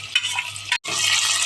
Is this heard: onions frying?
yes